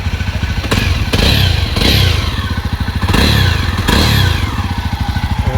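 A 2024 Jawa 300CL motorcycle engine revs up loudly in several bursts over a steady, throbbing idle, close by with some clattering.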